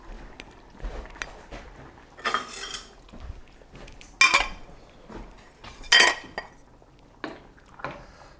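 A metal ladle clinks against pots and dishes in a kitchen while pasta with chickpeas and squid is made, a handful of sharp, bright clanks spaced irregularly among softer handling noises.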